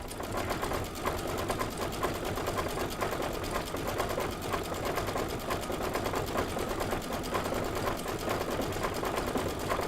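Embroidery sewing machine stitching a Confetti fill pattern, a steady, fast mechanical chatter of needle strokes running continuously at close range without pause.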